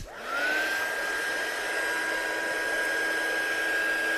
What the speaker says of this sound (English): bring the heat gun in just to give it a little bit of blast to help it dry